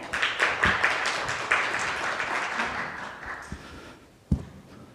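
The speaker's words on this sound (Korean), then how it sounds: "여러분 큰 박수로 환영해 주시기 바랍니다" An audience at a blockchain policy session claps to welcome a professor to the stage, a scattered round of applause that thins out, ending with one sharp thump.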